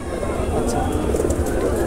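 Low, soft pigeon cooing at a pigeon market, amid a noisy background with people talking nearby.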